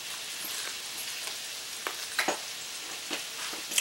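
Wild turkey gizzard coated in flour fries in hot oil, a continuous close sizzle broken by scattered sharp pops and crackles.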